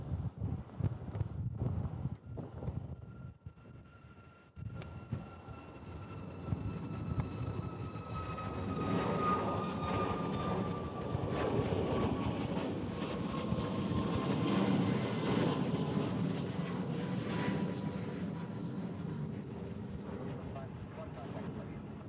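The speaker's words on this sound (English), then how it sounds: "we'll have a rather large plane heading off to SFO" A large passenger jet departs Honolulu airport bound for San Francisco, its engine roar building from a distant rumble into a steady, sustained rush with a high whine on top, while gusty wind buffets the microphone throughout.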